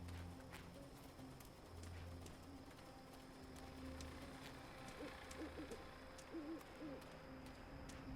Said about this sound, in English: I hate that owl noise.